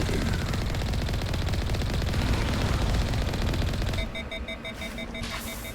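Sustained rapid-fire automatic gun in Mass Effect firing steadily until it overheats, the dense burst cutting off near the end into a beeping overheat warning tone.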